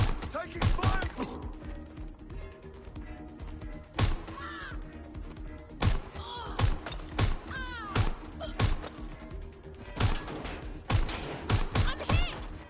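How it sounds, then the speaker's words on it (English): Gunfire in the Watch Dogs Legion game, sharp loud shots coming in irregular bursts and single cracks through a firefight, with crows cawing between volleys. "hostile. Taking fire!"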